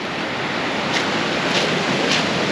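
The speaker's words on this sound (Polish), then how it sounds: "Słychać szum, jak się cofa po tych właśnie kamieniach. Idzie kolejna fala." Big Atlantic waves at Legzira beach in Morocco rush in and hiss back over the stones, a loud, continuous roar with faint periodic pebble rattles and wind buffeting the microphone.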